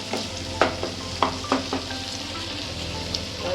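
Spiced masala for a cabbage sabzi sizzles steadily in a pan while a spoon stirs and scrapes it, with a few sharper clanks against the metal over the constant frying hiss; no one talks.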